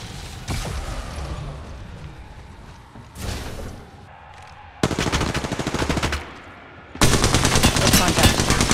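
Gunfire in the mobile video game Apex Legends Mobile: a single early crack, then long loud automatic bursts come in waves, separated by quieter gaps, with the last burst sustained and close.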